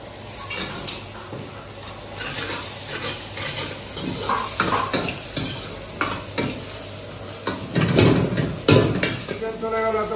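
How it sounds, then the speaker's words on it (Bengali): An egg goes into a pan of beans, carrot, capsicum and peas stir-frying for mixed fried rice: loud sizzling with repeated metal spatula scrapes and clatter, close by and growing busier toward the end. "এবার আমি ডিমটা দিয়ে দিচ্ছি।"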